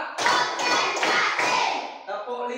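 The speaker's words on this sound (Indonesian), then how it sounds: "tepuk 1, tepuk 2, tepuk 3, tepuk 4" A class of children in an Indonesian schoolroom claps their hands in counted bursts. Four distinct, fairly loud clap bursts come at an even, quick pace, and children's voices are heard around them.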